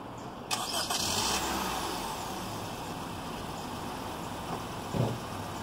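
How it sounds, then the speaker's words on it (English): A 2019 Honda HR-V engine cranks and catches by remote start, then settles into a steady idle hum. "Once the car's remote starts, it's going to run for 15 minutes and then shut down by itself"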